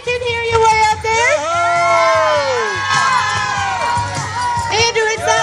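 Crowd at the West Virginia State Fair cheering and whooping for speed climbers racing up a wall, a continuous close roar of shouts with children's voices and whistles rising and falling throughout.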